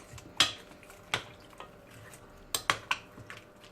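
A utensil stirring fish sauce with water in a pan, giving several sharp metallic clinks and scrapes against the pan with faint liquid sloshing between them.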